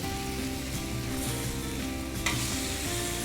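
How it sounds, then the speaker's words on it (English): Frozen burger patties sizzle loudly on a very hot griddle just after flipping, a close, unbroken frying hiss with a brief sharper spatter near the end. "By doing these burgers on a griddle like this at a real high temperature"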